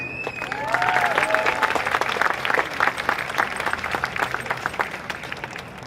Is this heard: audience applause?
yes